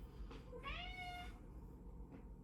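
A single drawn-out cat meow, close and clear, rising then falling, over a steady low background hum.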